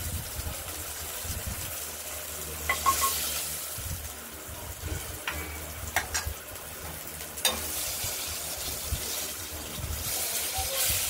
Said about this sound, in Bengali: মাছগুলো ভাজা হয়ে এসেছে